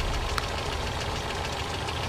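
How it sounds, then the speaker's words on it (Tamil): A steady car engine idles continuously, a low rumbling drone with a slightly knocking texture, close and even throughout with no speech. "டிரைவர், வண்டி எடுப்பா."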